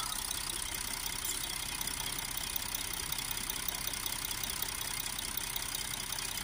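A 3.0 TDI diesel Audi A4 engine with a particulate filter fault idles steadily close by, a continuous low rumble with faint knocking and a high hiss.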